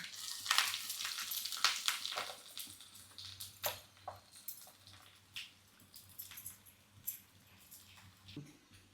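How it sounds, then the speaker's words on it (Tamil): Crackling tempering of small shallots and curry leaves frying in oil for a moong dal sambar, with irregular sizzling bursts and pops up close, fading to lighter spitting toward the end. "இப்போ நல்லா தாளிசம் முருகலாயிடுச்சு நம்ம சாம்பாரில் கொட்டிட்டு டக்குன்னு மூடி வச்சிடலாம்"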